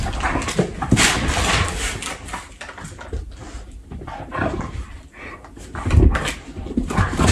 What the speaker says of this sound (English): Maybe you can see my dogs playing.